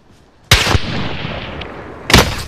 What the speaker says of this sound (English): people are shooting him.